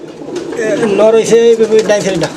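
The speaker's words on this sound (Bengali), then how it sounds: "এখানে আরও একজোড়া রেসার কবুতর আছে" Racer pigeons coo close by in soft, rolling throaty bursts, several overlapping calls with a voice briefly mixed in.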